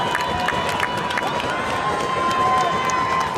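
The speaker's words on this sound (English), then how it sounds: "Hometown crowd trying to get their Falcons round back in" A home crowd cheers and shouts steadily at a high school lacrosse playoff game between AC Flora and May River, a continuous wash of voices with brief louder swells.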